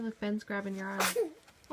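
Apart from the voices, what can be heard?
sneeze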